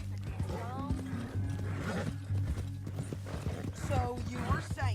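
Horse hooves clip-clop steadily in Red Dead Redemption 2 as a rider travels toward Saint Denis, soft rhythmic thuds with creaking tack under ongoing conversation and a neigh-like whine.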